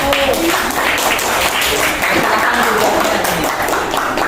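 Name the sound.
applause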